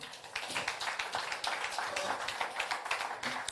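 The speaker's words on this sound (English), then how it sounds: "Can I get a huge round of applause for Boniface Mulandi and, of course, Solange Domay?" Audience at a documentary screening and panel discussion clapping to welcome the panel guests, a thick, continuous round of many hands at moderate loudness with no speech over it.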